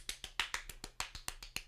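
A sharp clapping sound effect in the Death Stranding video game repeats about ten times in quick, even succession, crisp and faint, each snap-like hit decaying fast over a low hum.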